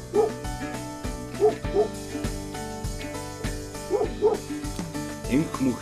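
A Mongolian herding dog at a herder's camp lets out a series of spaced barks, moderately near, over a sustained musical drone.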